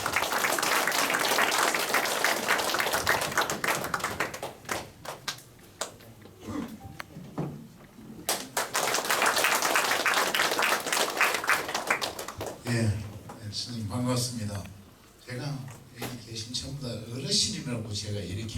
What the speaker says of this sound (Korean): 뜨거운 박수로 맞이해 주시면 고맙겠습니다